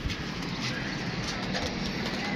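Pigeons coo softly on a rooftop amid a busy, noisy background of rustling and flutter, the calls low and repeated close by.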